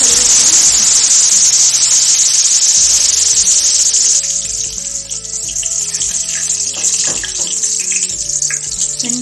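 Curry leaves drop into hot ghee for prawn biryani and crackle into a loud, hissing fry that settles into a steady bubbling sizzle close by, with no talking.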